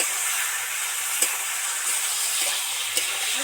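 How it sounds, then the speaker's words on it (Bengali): Spinach with a ginger and radhuni spice paste sizzles steadily as it is stirred and fried in a pan. A continuous hiss carries a few soft scraping stirs, with no talking. "নেড়ে চেড়ে দু মিনিট ভেজে নেব"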